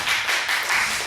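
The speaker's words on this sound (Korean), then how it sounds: "다시 한번 하나님께 감사 영광의 박수 드립시다." A church congregation applauds together during a Sunday worship service, producing dense, steady clapping from many hands that fills the room at an even level for the whole moment, with no voices standing out above it.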